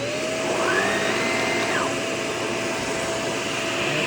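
Shark vacuum cleaner in hard floor mode with its suction valve fully closed, running as a loud steady whine with a brief rising and falling tone while it moves across the floor.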